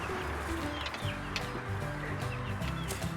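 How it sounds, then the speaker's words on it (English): Incubator-hatched baby chicks in a backyard homestead coop, peeping and clucking continuously under a steady, loud background rumble; the calls are dense and overlapping rather than distinct. "There's the baby chicks in the coop."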